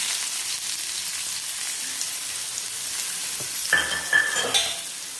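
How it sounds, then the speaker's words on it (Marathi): Onion frying in a little oil on a clay griddle, a steady soft hiss that swells into a busier crackle with a few stirring scrapes near the end, close by. "कांदा छान परतून घ्यायचा आहे"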